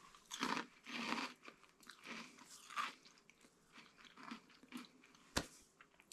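Someone bites into a crunchy freeze-dried caramel apple dessert, making several close, crisp crunches and chewing sounds in uneven bursts, with one sharp crack near the end and no speech.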